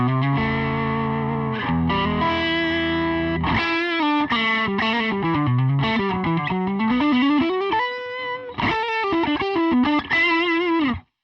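An electric guitar played through a cheap overdrive pedal on a budget pedalboard gives a gritty, bluesy tone, with chords, sustained notes and bent lead phrases ringing out loud.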